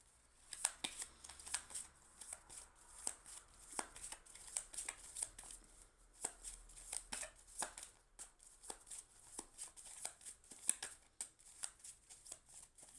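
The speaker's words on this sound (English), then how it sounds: "So I'm just going to pull one oracle card." Oracle cards being shuffled and pulled by hand, a quiet close run of repeated riffling flicks and soft slaps at an uneven rhythm, with no voice over them.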